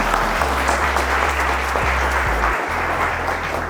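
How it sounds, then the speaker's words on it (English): An audience claps steadily throughout at a live event in Kenya, a dense continuous wash of applause over a low droning hum that briefly drops out near the end. "Can we give a round of applause for Alexander Murad?"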